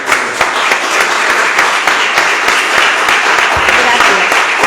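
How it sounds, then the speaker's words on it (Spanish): After a lecture, a lecture hall audience breaks into sustained applause, dense steady clapping from many hands close by, with some talk mixed in underneath. "yo creo que le vamos a dar un aplauso fuerte"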